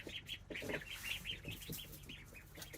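Baby ducks at feeding time on a homestead peep rapidly and repeatedly in high, close chirps, with soft cluck-like calls mixed in.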